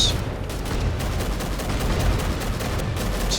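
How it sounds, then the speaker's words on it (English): A grenade launcher fires repeatedly in the combat game Angels Fall First, heard as a dense, loud, continuous barrage of blasts and gunfire blending into a sustained roar with no talk. "Grenade launcher."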